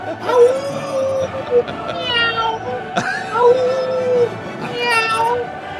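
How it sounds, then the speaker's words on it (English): A cat meows repeatedly with drawn-out, wavering calls in an indoor space while people chatter and react nearby. "There is a cat in here."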